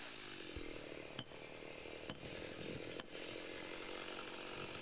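A chainsaw drones steadily while milling wood, fairly faint and distant, with a few sharp clicks or knocks breaking through at intervals.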